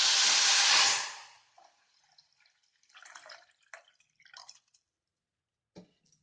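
Water poured into a cooking pot with oil for jalebi syrup, a short loud gushing pour that stops abruptly, followed by scattered faint drips and small splashes in a quiet kitchen.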